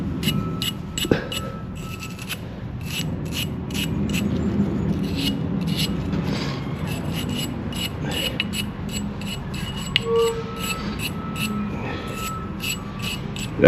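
Steady scraping and rasping of rust being scrubbed off the water pump area of a Dodge Ram 2500 5.7L Hemi, close and continuous with short repeated strokes and a few sharp clicks.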